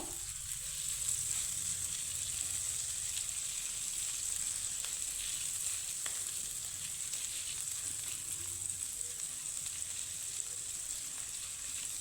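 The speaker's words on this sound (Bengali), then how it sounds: "তা আদার কাঁচা গন্ধ চলে যাওয়া অবধি একটু ভেজে নেব সামান্য হিং দিয়ে একটু নাড়িয়ে চাড়িয়ে নেব" Chopped ginger and a pinch of asafoetida frying in a pan, a soft steady sizzle with occasional light stirring, fairly quiet and continuous throughout.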